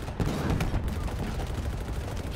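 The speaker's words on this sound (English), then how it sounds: "Firing main cannon." Rapid gunfire and tank main cannon blasts in Halo Infinite crackle in a dense burst, loud and continuous, with voices faintly mixed underneath.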